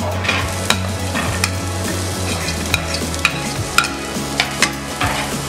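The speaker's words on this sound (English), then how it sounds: "I have already added my oil and it's hot. So I'm going to start with my onions first of all." Onions frying in hot oil in a pan for a pizza sauce, a steady close sizzle punctuated by repeated sharp clicks and scrapes of a utensil stirring, with no talking.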